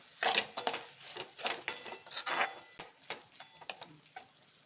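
A mushroom and capsicum fry is stirred in a pan, with a spatula scraping and clattering in quick irregular strokes over a faint sizzle, close up and without talk.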